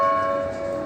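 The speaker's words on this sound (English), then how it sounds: "It's the bell." A single bell tone rings out clearly and sustains, slowly fading over a short moment.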